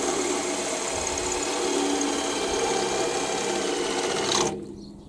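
A drill bit bores into material with a steady high-pitched whirring whine, continuous and close for several seconds before abruptly cutting off, with no talking over it.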